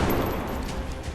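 Soldier's gunfire in XCOM: Enemy Unknown, a short burst of dense, rumbling automatic shots that blur into one continuous roar, loud and without talk.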